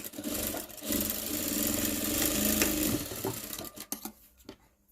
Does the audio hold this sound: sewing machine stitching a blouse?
yes